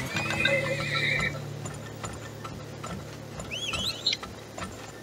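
Horses in the video game Turmoil whinny with a high, wavering neigh, while steady clip-clopping hooves and small game sound effects play throughout, clear and close with no talking.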